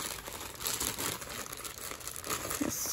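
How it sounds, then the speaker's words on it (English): A plastic package holding a Nintendo Switch accessory is crinkled and pulled at by hand close up, giving a continuous rustle with irregular louder crackles and no talking. "Alright, let's open this package."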